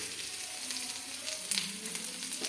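Chopped onion frying with mustard seeds in hot oil, a soft, continuous sizzle and crackle heard up close with no talking.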